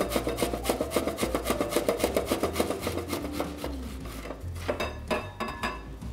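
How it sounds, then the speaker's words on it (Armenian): An onion grated on the fine holes of a metal grater into a bowl, a steady rhythmic rasping stroke repeated close up at a quick even pace, slowing slightly toward the end. "Հարմար ամանի մեջ քերում ենք գլուխ սող,"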